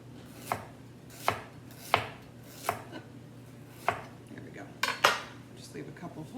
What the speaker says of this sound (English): I'm going to slice half of them so they're all set to go for a salad.